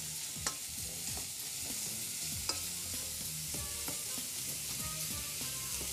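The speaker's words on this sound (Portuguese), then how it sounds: "Deixa eu dar uma olhada aqui na nossa cebola. Deixa ela dourar um pouquinho." Onion browns gently in olive oil in a pan for a salt cod pie, a soft, even sizzle with frequent scraping strokes of a spoon.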